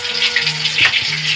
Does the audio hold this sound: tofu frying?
yes